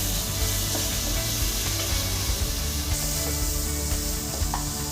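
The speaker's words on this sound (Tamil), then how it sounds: "இப்போ பார்த்திங்கன்னா தக்காளி நல்லா வதங்கிடுச்சு" Onion and tomato sauté in a pan for mutton liver pepper fry, giving a constant close sizzle. Soft scraping and stirring sounds run through it, with no voices.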